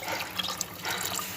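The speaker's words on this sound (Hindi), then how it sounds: "थोड़ा सा पानी और डलेगा" Water pours into a pot of lentil and bottle gourd curry in a home kitchen, a steady splashing trickle lasting just over a second, close and alone with no talk.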